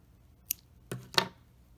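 Scissors snip through crochet yarn in a few short, crisp cuts, one light click followed by two fuller snips close to the microphone in an otherwise quiet room.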